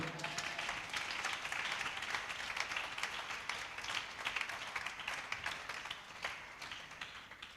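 A church congregation at a Sunday service applauding, steady sustained clapping from many hands in a reverberant room, continuous throughout with little speech.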